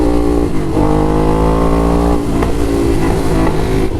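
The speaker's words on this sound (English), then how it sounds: "You can definitely hear the exhaust echo through" A motorcycle fitted with an SE Project exhaust revs up and holds a loud, raw engine note heard from the rider's helmet, with rising and falling throttle over steady wind noise.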